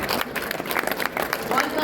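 Audience applause at a Piyush Mishra book launch at the World Book Fair 2023, a steady wash of clapping from a crowd lasting under two seconds, fairly close and even throughout.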